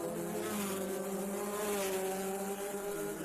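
Race cars on the back straight at Sandown Raceway during a Victorian State Race Series event, a sustained high, buzzing engine whine held steady at a distance, fairly faint throughout.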